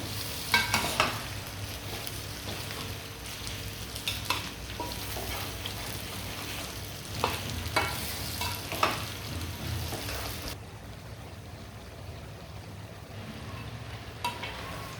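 Olives being stirred with spices in a pan while cooking down for a pickle, with steady frying noise under repeated scraping strokes of a spoon; no talking.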